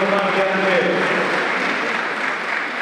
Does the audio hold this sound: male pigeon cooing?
no